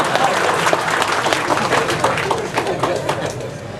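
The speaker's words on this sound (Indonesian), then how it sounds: "Tepuk tangan lagi." An audience at a Javanese religious gathering claps loudly and briskly, with individual hand claps audible in a dense, continuous patter, while scattered chatter and voices run underneath.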